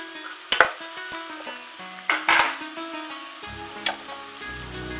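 Chopped onion and garlic hit hot oil in a pan and keep up a steady, close sizzle. Several louder crackles and scrapes of stirring break through, along with the clack of the utensil against the pan, and no one speaks.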